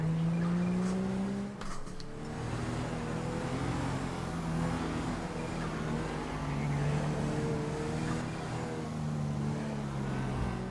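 Car engine in GTA V during a London police patrol, a steady droning hum with shifting pitch as it drives, near and continuous with brief dips.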